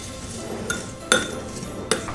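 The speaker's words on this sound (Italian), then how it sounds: "mettiamo un bel cucchiaio di zucchero, facciamo anche un cucchiaio e mezzo, e iniziamo a mescolare bene" A spoon stirring chopped apples with sugar and cinnamon in a bowl, giving three sharp clinks of metal against the dish over a soft, quiet rustle of mixing, with no talking.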